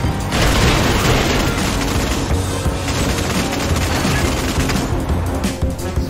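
Futuristic Gemini cannons fire in a video game, a dense, loud barrage of booming rapid shots rolling continuously with no pauses and no voices.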